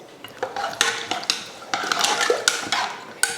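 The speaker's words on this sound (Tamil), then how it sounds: "தண்ணி ஊற்றி கலந்தாச்சு." Metal spoon stirring and scraping inside a pot of mutton dalcha with added water, a run of close clinks and knocks in an irregular rhythm.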